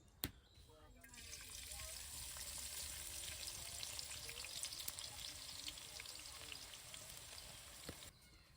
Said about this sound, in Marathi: तेल तापले आता कांदा टाकून द्यायचा आहे आपल्याला